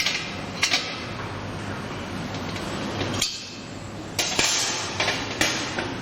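A spanner tightens a nut on a 4-inch signal light bracket, giving sharp metallic clinks and taps at irregular intervals over a steady background hum, close by.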